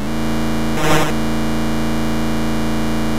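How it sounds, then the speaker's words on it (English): Atari 2600 Pole Position racing game: a steady buzzing engine drone carries through, broken by one short hissing whoosh of a passing car about a second in, loud and synthetic. "the sound of other vehicles whizzing past you"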